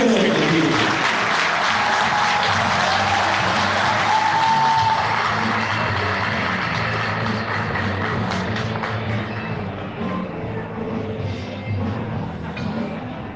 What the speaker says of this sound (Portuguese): Pedimos uma salva de palmas a essa grande equipe.